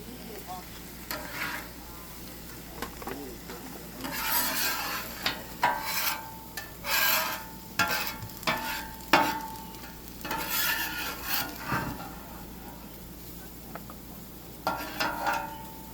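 Onions and mushrooms cook on a barbecue grill at a family outdoor cookout, giving a steady sizzle with repeated scraping and stirring scrapes of a utensil, close and moderately loud.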